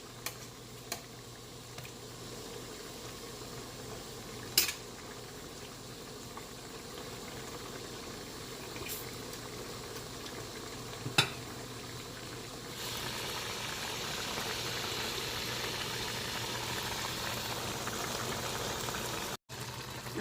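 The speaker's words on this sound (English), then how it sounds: "Just make it simmer." Jamaican oxtail simmering in a pot on the stove, a low steady bubbling hiss with a faint hum beneath, broken by a few sharp clicks and growing slightly louder toward the end.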